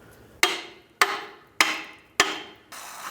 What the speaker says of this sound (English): At least now I have it here and I can hammer this down.